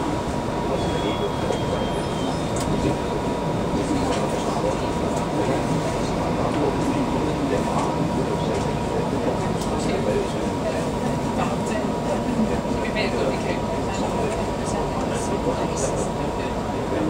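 Inside an SPT class 334 electric train in motion: a steady, loud rumble and hum of wheels and traction throughout, with a recorded announcement voice heard over it.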